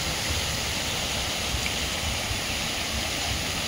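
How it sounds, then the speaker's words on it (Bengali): A water fountain sprays in the Rose Garden in Chandigarh, producing a steady, dense rush of splashing water that stays constant and fairly loud throughout. "এই দেখুন ফোয়ারা। ওইদিকে আরও ফোয়ারা আছে, দেখাই,"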